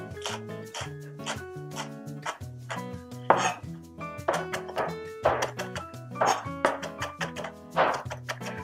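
A knife chops balled-up cabbage leaves on a board in a steady series of crisp, close cuts about once a second, with background music underneath.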